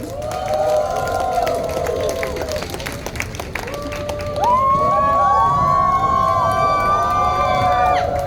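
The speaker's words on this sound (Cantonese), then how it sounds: "熱烈嘅掌聲歡迎佢哋" A festival crowd at a dragon boat festival band show in Hong Kong applauds and cheers as the first band is welcomed, with sustained clapping, whoops and whistles that swell louder partway through.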